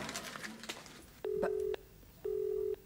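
A telephone line tone sounds after a call is cut off, two steady beeps of about half a second each, clear and close over quiet room noise with a brief voice fragment before.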